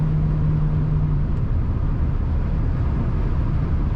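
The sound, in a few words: 1995 GMC Sierra 1500 pickup truck engine rumble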